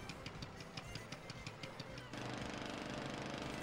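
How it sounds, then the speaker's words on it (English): A worn engine on a vehicle in the Tales of Legendia video game putts unevenly like a lawnmower, with rapid regular chugging pulses that settle into a steadier, denser drone partway through, fairly loud and alone. "It just sounded like a puny little car choking to life. And now it putts like a lawnmower."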